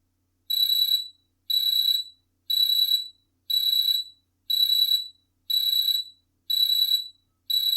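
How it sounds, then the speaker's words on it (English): A JavaScript Pomodoro timer's break-time alarm beeps in a regular pattern of eight identical, evenly spaced electronic bursts, each about half a second long with short silent gaps, clean and alone. "while the break time starts, alarm sound will come"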